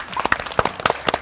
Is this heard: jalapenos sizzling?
no